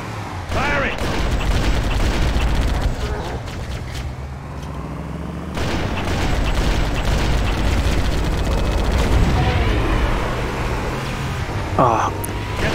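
Dense gunfire and booming mortar tank artillery fill a battle in Halo: Combat Evolved, with rapid shots and explosions throughout and voices shouting over the combat.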